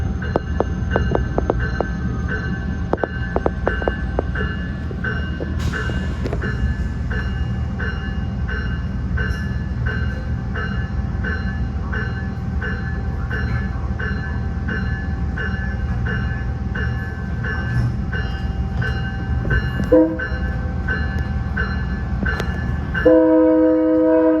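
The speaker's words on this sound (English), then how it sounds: "Sounds like a K3LA that's fouled." A fouled K3LA train horn sounds continuously with a rough, dissonant chord, blaring loud and steady over rumbling rail noise, with a short change in tone near the end.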